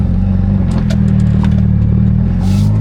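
A Mazda RX7 FD street car with a 2-way differential accelerates in gear, its loud engine droning close and steady on an open road.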